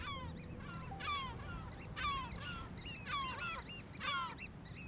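Seabirds on the African coast call in a series of nasal, honking cries, several birds overlapping in rhythmic bursts roughly every second over a soft, constant background wash.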